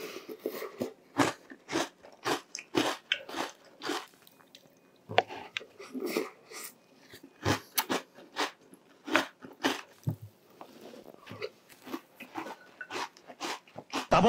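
Close, crunchy chewing of Mitsu cereal, with steady bursts of bites and crunches in a quiet room and short pauses between mouthfuls.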